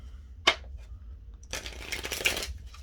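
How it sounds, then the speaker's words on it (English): Tarot cards get shuffled up close, a sharp snap followed by a second, longer riffling burst, quiet against a low hum. "I'm gonna shuffle and then pick a card."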